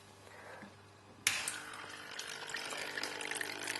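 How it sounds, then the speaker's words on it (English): Water rushes over the top of a clogged carbon filter cartridge, starting abruptly after a quiet hum and then flowing as a steady, close splashing stream. "the water basically just flows on top, because the actual filter cartridge gets clogged very easily"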